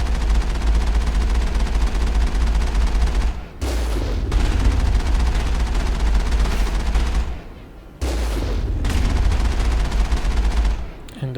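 Rapid automatic gunfire in the video game Mass Effect, loud, sustained bursts that cut off abruptly twice before resuming.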